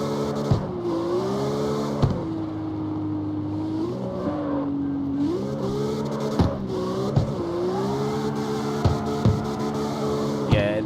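A street car drifting on the handbrake in CarX Street, its engine revving and whining in rising and falling sweeps, with sharp transient knocks and gear-shift breaks throughout, loud and close.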